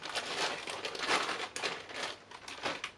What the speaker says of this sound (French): Et donc je vais couper.